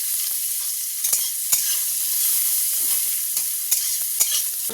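Onions frying in hot oil in a wok (kadai) with garlic, dried chilli and panch phoron, giving a steady close sizzle broken by the regular scrape and clack of a spatula stirring, with no voices.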